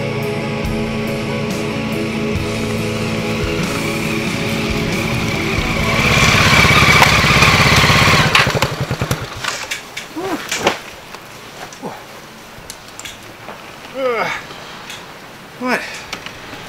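Motorcycle engine running steadily nearby and swelling louder, then cutting off, followed by someone speaking in short phrases with a quiet background.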